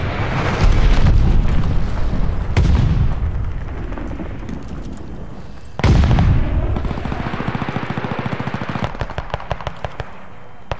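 Glide bomb blasts in a video game: three heavy booms with long rumbling decays, then a dense run of rapid gunfire that trails off into scattered shots.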